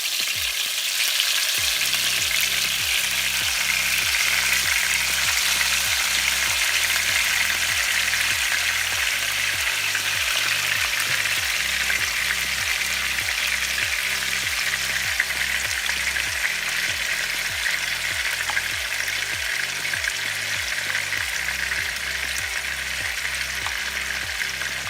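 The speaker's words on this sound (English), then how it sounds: "I'm cooking my shrimp" Shrimp frying in a pan for a quesadilla sizzles steadily and close up for about 25 seconds, with faint scraping and stirring mixed in and no talking.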